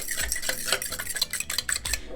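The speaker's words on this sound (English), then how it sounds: "take a fork or a whisk, beat up those eggs, get them nice and incorporated" Eggs being beaten with a fork or whisk in a bowl for a pork cutlet egg wash, a quick run of close, busy clinking and scraping strokes with no talk.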